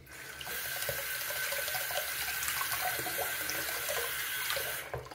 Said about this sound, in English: Rinse out the sink, do a little rinse.